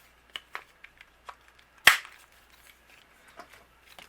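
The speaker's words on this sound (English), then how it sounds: "I'm going to round the corners of the bottom of my note card" A corner rounder punch snaps sharply once while rounding note card corners, amid several lighter taps and clicks of handling paper in a quiet room.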